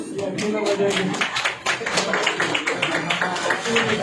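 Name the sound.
church youth meeting audience clapping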